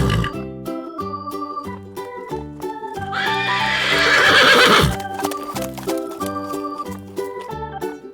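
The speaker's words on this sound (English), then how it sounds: "horse," Horse neighing in a loud, rising whinny in the middle, with hoof clip-clop and children's background music playing throughout.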